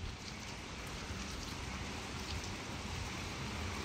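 Rain falls steadily on the seafront in Yevpatoria in a soft, even hiss, continuous and fairly distant, with no voices.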